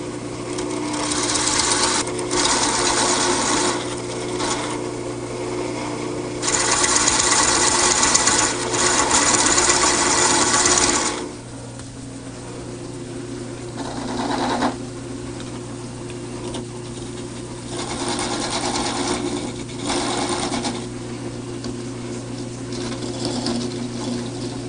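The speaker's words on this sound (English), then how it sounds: "Now I'm going to return to the parting tool" A wood lathe spins while a parting tool cuts into the turning workpiece, giving a steady motor hum under bursts of harsh scraping that start, stop and return in several stretches, with a quieter gap in the middle.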